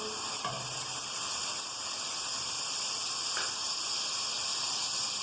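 Chicken pieces fry in a pan with a steady, close hiss and sizzle for an elbow macaroni dish. The sound is continuous and even, with no talking.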